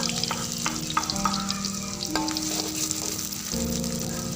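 Shallots frying in hot oil for a young jackfruit stir-fry, a steady close sizzle with light stirring scrapes and brief clinks, no talk.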